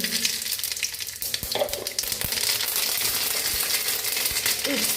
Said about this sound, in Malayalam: അതിനകത്ത് തന്നെ ഞാൻ കടു പൊട്ടിക്കുകയാണ്